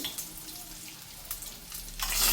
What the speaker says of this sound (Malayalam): ഗരം മസാല വാട്ടിയെടുക്കാം